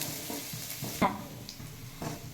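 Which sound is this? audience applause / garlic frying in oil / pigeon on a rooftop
garlic frying in oil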